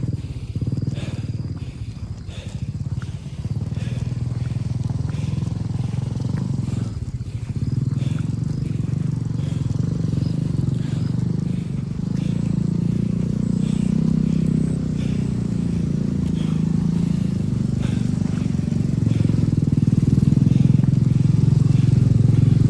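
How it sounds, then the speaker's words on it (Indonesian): Motorcycles on a mountain trail up Mount Cikuray via Tapak Road: a low, rumbling engine drone that builds and grows nearer and louder toward the end, with faint voices underneath. "Motor dulu Kak."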